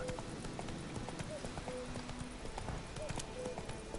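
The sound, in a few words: horse hooves galloping in Witcher 3 video game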